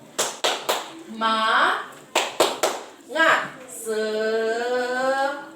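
Several sharp claps in a quick rhythmic pattern alternate with voices chanting together, repeating in a call-and-response cheer.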